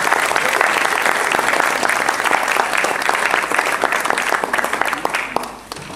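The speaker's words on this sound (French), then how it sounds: "Donc je vous demanderai d'applaudir Sébastien Ramier de Noyers Sportives." Audience applause for blackball pool player Sébastien Ramier at a regional Brittany tournament, sustained clapping from a modest crowd with distinct individual claps audible, tapering off at the close.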